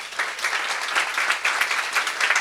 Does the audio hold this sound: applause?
yes